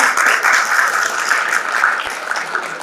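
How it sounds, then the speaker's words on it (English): An audience at a session on retelling Sikh history applauds as a moderator is welcomed, giving a steady, full round of clapping that fills the room without pause. "Let's give a huge round of applause for ma'am."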